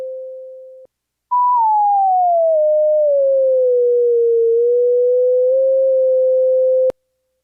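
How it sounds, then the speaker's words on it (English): A pitch-matching app plays a steady pure sine target tone that starts high and glides slowly downward before settling. It sounds alone, clean and loud, for about five and a half seconds after a brief shorter tone. "Let's play the target pitch."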